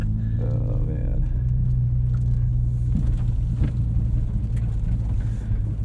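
A 2017 Ford Fiesta ST autocross car on RT660 tires drives with a loud, steady engine and road rumble close inside the cabin, as a low tone wavers through the drive.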